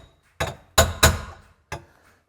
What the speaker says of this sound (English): It is the front outside seat mount. I'm gonna tap it back into place.